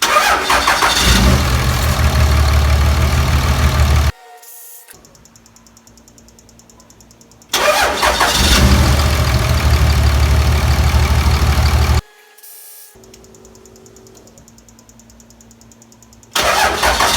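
A Cummins 24-valve diesel truck engine cranks and fires up, then settles into a loud, steady, rattling idle; the start-and-idle sequence happens twice, separated by quiet stretches.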